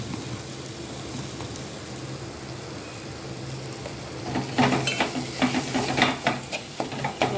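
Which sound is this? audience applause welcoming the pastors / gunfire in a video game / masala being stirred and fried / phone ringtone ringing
masala being stirred and fried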